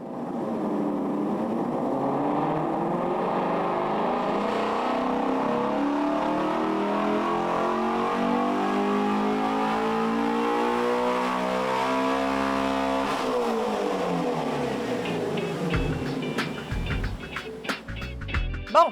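A Ford Shelby Mustang GT350 engine on a dyno climbs in a long, loud rising rev sweep, then drops off into sharp crackles and pops near the end, with no talk over it.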